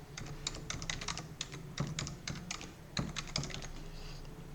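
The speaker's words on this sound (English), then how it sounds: "I have to type this here." Fingers type on a computer keyboard while setting up a Windows Server 2022 domain controller, with quick irregular bursts of close, crisp key clicks and short pauses, and no voices.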